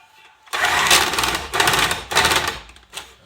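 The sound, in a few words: electric whisk mixing frozen ice cream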